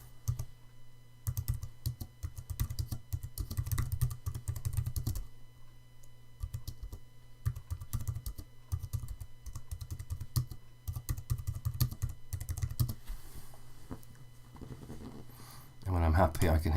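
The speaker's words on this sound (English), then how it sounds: "And I can start typing." Typing on a computer keyboard while a teacher demonstrates a screenshot and annotation tool, with steady bursts of key clicks close by that pause around the middle and resume, under a background hum.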